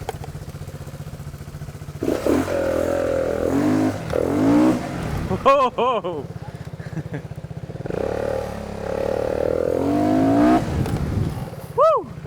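An Italjet Dragster 200 scooter engine with a Malossi CVT upgrade revs up sharply several times, each time rising in pitch and then dropping back. A voice exclaims once over the noise.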